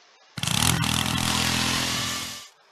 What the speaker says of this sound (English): I'm gonna go drill.